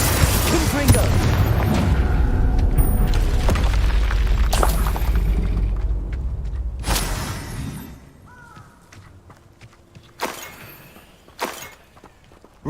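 Spell blasts in the Hogwarts Legacy video game: a loud rumbling stretch of booming, crackling magic impacts that fades, followed by several sharp, separate bursts and shattering hits.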